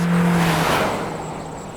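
A 2026 Toyota Corolla Cross Hybrid compact crossover drives off, its steady low road and engine hum filling the cabin and easing slightly as it settles to a cruise.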